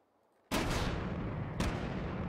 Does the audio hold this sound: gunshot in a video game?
yes